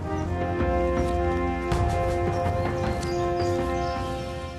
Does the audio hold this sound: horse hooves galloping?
yes